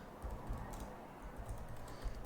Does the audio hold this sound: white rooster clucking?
no